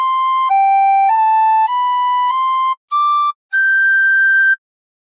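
A tin whistle plays a short phrase of "God Defend New Zealand": about seven clear, pure sustained notes stepping up and down, loud and close, with two brief gaps near the end.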